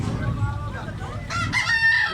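A stag gamecock with green legs crows loudly and close by, one strained call rising into a sustained high note, with light background noise.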